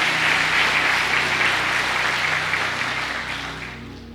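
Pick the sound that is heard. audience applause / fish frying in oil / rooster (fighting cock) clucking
audience applause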